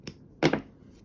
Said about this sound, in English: Snip that one off